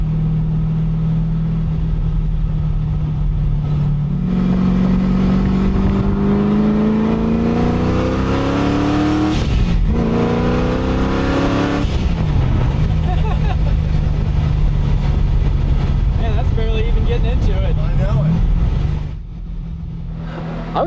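A supercharged Ford Mustang restomod drives with a loud, close engine note that rises through the gears in long climbing sweeps, easing off briefly near the end.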